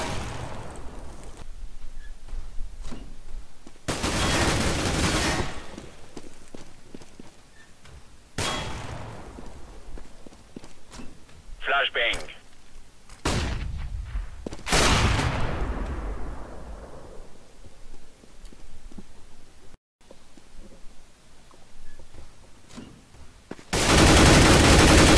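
Sharp, loud gunshots and clanging bursts ring out at intervals through a shooter video game match with an AWP sniper rifle, separated by quieter stretches of game ambience.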